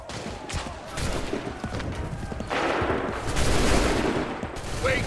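Volley of musket gunfire in the video game Assassin's Creed 3: a dense, ragged crackle of many shots in quick succession, loud and close, continuing for several seconds with scattered bursts.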